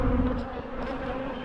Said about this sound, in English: God, the bees cranky.